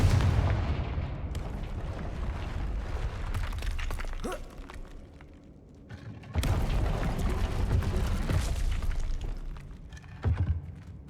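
Confringo fire spells from the Hogwarts Legacy video game go off as booming blasts with crackling rumble, loud and close, swelling twice with a quieter gap between them.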